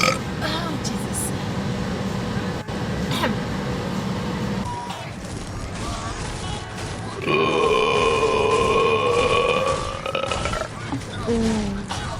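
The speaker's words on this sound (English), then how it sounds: "that burp made my eyes water" A woman lets out loud, drawn-out burps during a livestream, deep croaking belches alongside her talking and some background noise.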